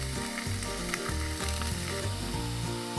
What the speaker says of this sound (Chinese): 接着羊肚菌下去煎